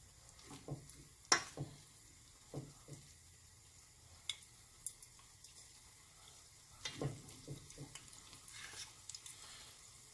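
Spoonfuls of onion bhaji batter dropping into hot oil, with a soft continuous sizzle and scattered crackles and pops, faint and close with no talk.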